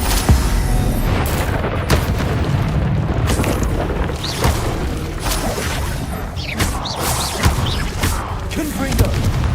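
Confringo fire-blast spell bursting in Hogwarts Legacy, loud booming explosions and crashing impacts layered with whooshes in continuous combat, no clear gaps between blasts.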